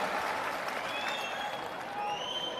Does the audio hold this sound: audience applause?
yes